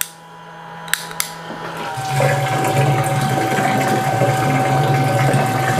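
Water runs steadily from a DIY portable overland shower with a shower head, hot and at good pressure; after a couple of sharp clicks the flow starts and becomes a continuous close hiss with a faint pump hum.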